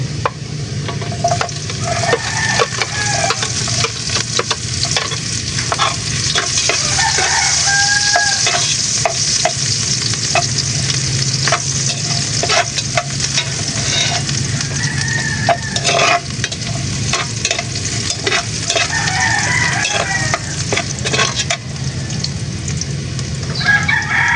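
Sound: garlic frying in a pan

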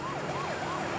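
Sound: police car siren in pursuit

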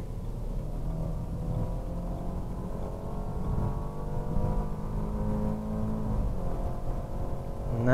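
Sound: BMW Z4 car accelerating and changing gear

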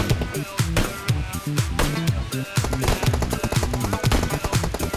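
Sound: gunshots in video game PUBG Mobile

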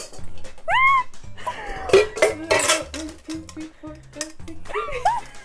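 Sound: lid and glass baking pans being handled

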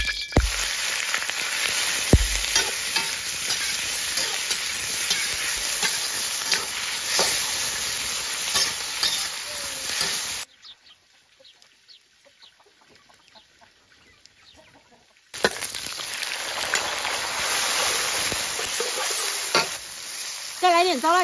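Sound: stir-frying hotpot base in a little oil in a wok

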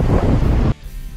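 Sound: strong cold wind blowing into microphone

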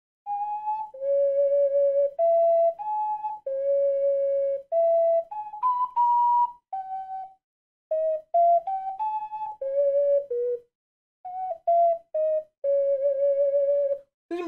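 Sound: ocarina playing in The Legend of Zelda: Ocarina of Time video game

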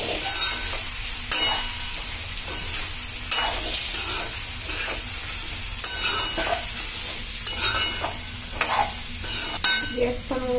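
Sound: garlic and curry leaves sizzling in hot oil

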